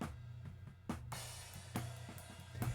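A drum kit heard through a single mono overhead from a U47 microphone, soft and roomy, with spaced drum hits and a ringing cymbal wash, no talking.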